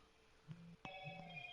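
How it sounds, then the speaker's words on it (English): A mobile phone rings in the background with two short tonal ring bursts, faint and sitting behind the room, with no talk over it. "sorry for my phone in the background"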